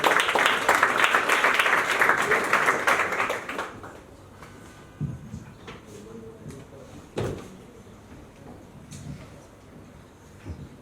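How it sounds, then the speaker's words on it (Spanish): An audience applauds at a quarterly corporate event, with steady clapping for the first few seconds that then fades, leaving room noise and a few scattered knocks. "Un fuerte aplauso para él, por favor."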